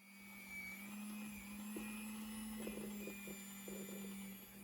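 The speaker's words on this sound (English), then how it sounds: "Carefully plug in the hand mixer." An electric hand mixer beats butter in a bowl, a steady droning motor whine with a low hum and faint irregular clinks from the beaters, continuing evenly throughout at a quiet level.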